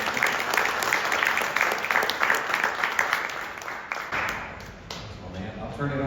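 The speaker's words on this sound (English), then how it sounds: "Let's give Tony a round of applause." An audience applauds, a dense steady clatter of many hands clapping in a room that continues for several seconds with little letup.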